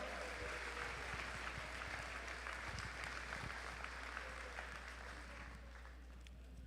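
An audience at a robotics championship opening ceremony claps steadily, a dense round of applause that holds for several seconds before slowly tapering off.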